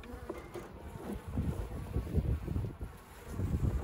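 Honey bees humming around an overwintered hive during spring maintenance, a steady low buzz of many insects close by, with some wind noise over the microphone.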